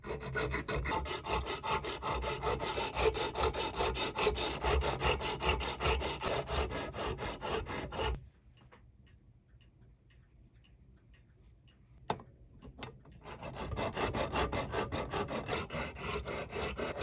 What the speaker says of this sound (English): I'll be using the single roller filing process on this part.